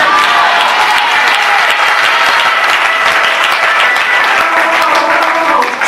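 A church congregation applauds at a Sunday worship service, a loud, dense wash of clapping that stays steady and sustained throughout, with faint voices mixed into the crowd.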